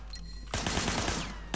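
Gunfire from blind firing out of cover in the video game Sleeping Dogs. After a quieter start, a loud, rapid burst of shots lasts about a second.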